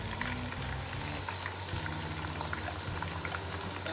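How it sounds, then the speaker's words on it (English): Pepper mix goes into a simmering Nigerian chicken stew, giving a steady close bubbling and sizzling with a low hum underneath and no talk. "That's the pepper mix there going in."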